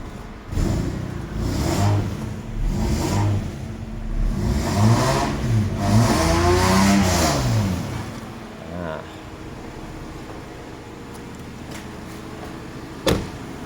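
A Mercedes-Benz 190E with its stock quiet exhaust idles and revs in several rising and falling bursts, the engine close and moderately loud before settling to a low idle, with a sharp click near the end.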